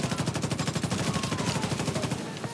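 Sustained rapid automatic gunfire in The Division 2 video game, a loud, dense, evenly pulsing stream of shots filling the whole stretch without a break.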